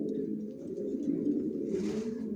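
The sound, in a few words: Johnson long-distance racing pigeons cooing in loft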